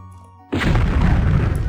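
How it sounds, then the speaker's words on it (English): A sudden loud magical blast from the Horse Explosion spell in the video game Daggerfall, a sharp onset followed by a roaring, rumbling burst that sustains without voices. "We're gonna cast Horse Explosion."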